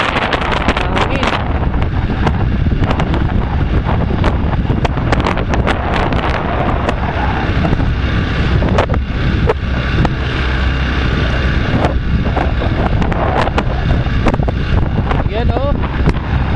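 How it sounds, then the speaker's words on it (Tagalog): Heavy wind on a boat out trolling at sea buffets the microphone in a constant loud roar, with rumbling gusts throughout and occasional faint voices underneath. "Hangin."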